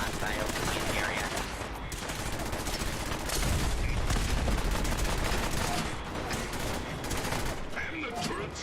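Automated turrets spray rapid gunfire in a combat area of Fallout 4, a dense, continuous barrage of shots swelling louder midway, with a voice faintly mixed in under the chaos.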